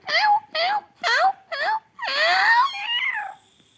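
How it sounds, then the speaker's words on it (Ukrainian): A house cat meows close by, four short rising-falling calls followed by a longer, drawn-out wailing meow. "Наш кіт дуже дивний."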